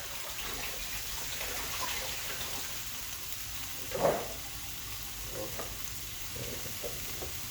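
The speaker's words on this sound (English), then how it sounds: "So I'll put the potato and let it just simmer down and do what it do." Potatoes simmering in a pot of Jamaican lamb stew, a steady soft bubbling hiss at moderate level with one brief louder clink or splash partway through, no talking.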